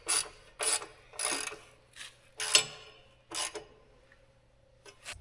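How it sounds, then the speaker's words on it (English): A ratchet wrench fitted with a socket is worked on bolts in a series of rasping, clicking strokes, each lasting under a second with short gaps, close up and without speech. "Ratchet, I mean."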